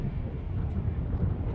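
Strong wind buffets the microphone outdoors at the Old Port of Montreal, a dense, steady roaring rumble that fills the whole short stretch with no voices.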